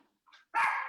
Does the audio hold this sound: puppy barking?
yes